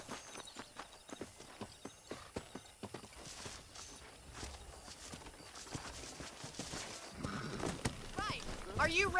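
Horse hooves clip-clop in a steady walking rhythm on a ranch in the Red Dead Redemption video game, quiet and close, with ambient game sounds and a brief whinny rising near the end.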